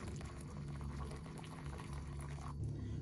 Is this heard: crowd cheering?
no